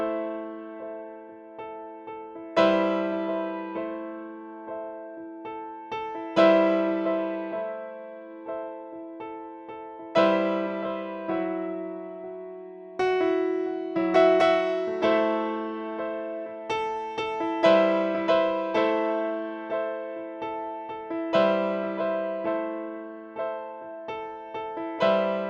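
Solo piano plays a live outro, repeated chords struck firmly in a steady pattern with sustained decays, alone and close throughout.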